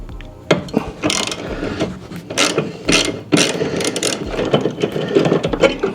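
The stock Denso horn, made in Japan, is unbolted from a Japanese mini truck. A hand ratchet gives close, loud bursts of rapid clicking in irregular strokes, with no speech.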